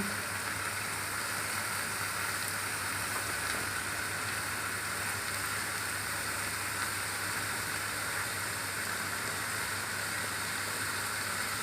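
Onion frying in a pan for a tomato garlic chutney: a steady, soft hiss and sizzle that stays even throughout, with no talk.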